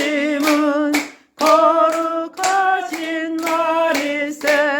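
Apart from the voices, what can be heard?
audience clapping along to a hymn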